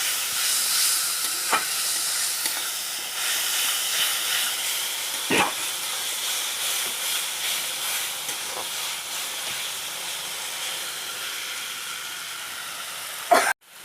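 A ginger, garlic, onion and tomato paste frying with onions in a pan for a chicken curry, a steady hissing sizzle with a few sparse stirring knocks and a sharp clatter at the end, no talk.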